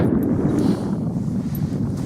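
Steady wind buffeting the microphone at a lochside forest camp in Galloway Forest Park, a low rushing roar that swells and eases slightly, with no other sounds standing out.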